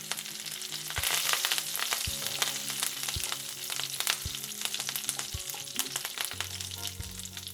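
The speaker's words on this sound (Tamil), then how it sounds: "இப்போ கடுகு பொரிய ஆரம்பிச்சிருச்சு" Mustard seeds and curry leaves frying in oil in a pan, a steady crackling sizzle with scattered pops and occasional soft stirring knocks, close and continuous.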